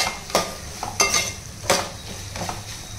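Ingredients for a Telugu bitter gourd (kakarakaya) pulusu fry in a pan while being stirred, with a steady sizzle and several sharp scraping strokes of a spoon against the metal at irregular intervals, close and alone.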